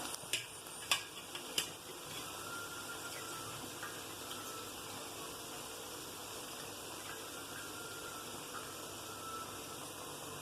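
Black rice with cooked vegetables being stirred in a pan for a Tamil-style kichadi: a few sharp scrapes at the start, then a steady soft sizzling hiss that runs alone to the end.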